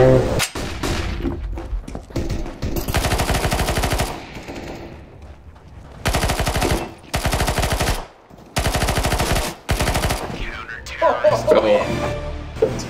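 A PP-Bizon submachine gun fires in Counter-Strike: Global Offensive in several long, loud bursts of rapid automatic fire separated by short gaps, with a player's voice heard alongside.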